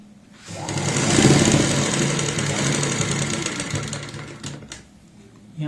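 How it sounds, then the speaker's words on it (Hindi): A sewing machine stitching piping along a kurti neckline: a rapid, close mechanical whir that starts up, runs steadily for about four seconds, then stops. "जो हमारी ये सिलाई है इसी के नजदीक तक हम यहाँ पे सिलाई लगाएंगे"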